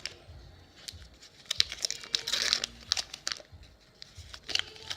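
Paper wrapper crinkling and tearing as it is peeled off 1.5 sticks of butter for lactation cookies, a close run of irregular crackles and rips with a denser burst midway.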